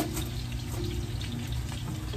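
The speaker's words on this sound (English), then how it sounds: "my meatballs are cooking really good" Homemade meatballs fry and brown in a pan, giving a steady, even sizzle that stays at a moderate level throughout.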